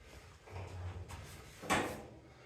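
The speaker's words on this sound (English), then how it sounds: "let's see if we shut that door and make it look more like a pickup" A pickup shop truck's door is shut in a quiet workshop, with a muffled thump and a short rattle after some faint low rustling, all heard at low volume.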